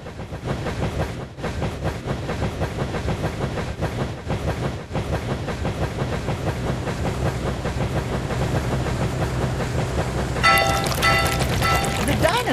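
Dinosaur-themed train racing in a children's video game, a steady rumbling rail clatter with rhythmic clicks, bright game chimes appearing near the end.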